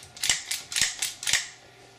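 Slide of a Prismatic Dueller dual-barrel .45 ACP pistol being cycled, giving four sharp metallic clacks in quick succession, close and clear, with no talk.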